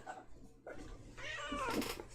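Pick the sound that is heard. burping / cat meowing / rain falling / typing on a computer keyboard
cat meowing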